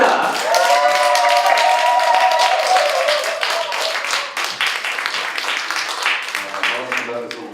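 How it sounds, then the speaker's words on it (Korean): A seminar audience claps to welcome an author onto the stage, sustained applause with a sung or musical tone over it early on, gradually thinning as a voice comes in. "환영의 인사, 환영의 박수 부탁드리겠습니다"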